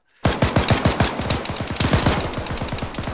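Loud, close automatic machine gun fire in the Arma 3 video game, a rapid unbroken burst of shots that begins abruptly and holds for about three seconds with no talking.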